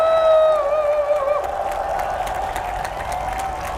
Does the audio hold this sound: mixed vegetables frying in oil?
no